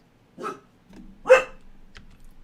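A dog barks two or three times in short, separate yelps, fairly close and clear against a quiet background.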